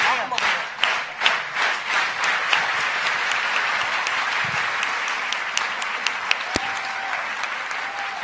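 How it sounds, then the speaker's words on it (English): Audience at a tech summit in New York gives a group-photo clap, starting as spaced single claps that quickly merge into a steady, dense round of applause from a large crowd, with faint voices under it. "Can we get another slow clap just for some ambiance of the photo?"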